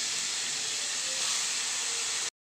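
Onion and tomato paste hitting hot oil seasoned with whole cumin, a loud steady sizzle and hiss that runs unbroken for about two seconds and then cuts off abruptly.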